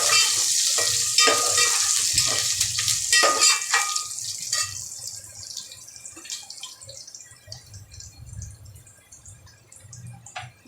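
Curry leaves dropped into hot oil with reddened garlic, a loud crackling sizzle right away that gradually calms into softer bubbling and popping, heard close by.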